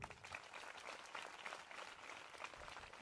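An audience applauds during an Odia Christian gathering with a sermon by Stephen Lima in Amabaguda, a soft, continuous patter of many hands clapping, fairly distant and quiet, steady from start to finish.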